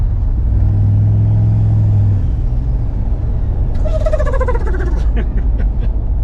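A turbocharged truck engine with no blow-off valve drones loud and steady, its whine rising, then breaks into a burst of fluttering, chirping turbo surge that tapers off.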